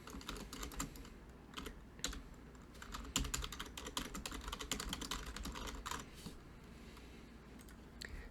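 Fast, steady typing on a computer keyboard while writing a commit message, with dense clusters of close key clicks and occasional heavier strokes running for several seconds, no voices.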